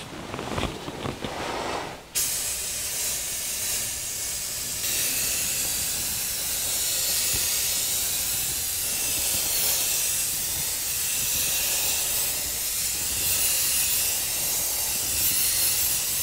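Compressed air blasting dust off the firewall of a 1949 Chevrolet gasser, a loud, close, continuous hiss running steadily for many seconds after a brief bit of handling noise at the start.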